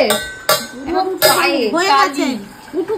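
A lid goes onto a cooking pot with sharp metallic clinks and clatters of cookware, a few distinct knocks set close against a voice speaking in between.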